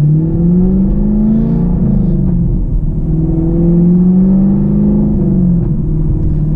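A Chevrolet Camaro SS with an MBRP exhaust and the resonators cut out idles and revs loudly up close, a deep steady rumble that rises and falls in a couple of throttle blips.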